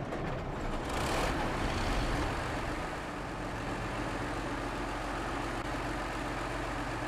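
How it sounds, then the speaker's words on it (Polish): A ZiKZ 612H Mastodon truck idles in SnowRunner, a low, steady heavy-diesel rumble that holds evenly throughout after a brief louder swell near the start, with no talking. "Jeszcze tylko z ciekawości odpalę go. Zobaczymy, jak brzmi dźwięk silnika"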